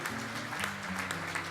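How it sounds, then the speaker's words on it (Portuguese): Applause for an honoree at a ceremony for Brazilian Army Soldier's Day, a steady crowd clap over sustained low musical tones playing underneath. "eu vou pedir a segunda salva de palmas para ele"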